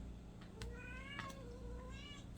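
A mother cat calls to her kittens with a few soft, short, rising meows, close by in a quiet room.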